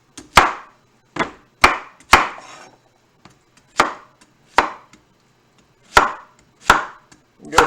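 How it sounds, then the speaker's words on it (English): Knife chopping zucchini on a cutting board: about ten sharp, separate thunks at an uneven pace, close and loud, with no talking. "Let's do some Action Jackson chopping here."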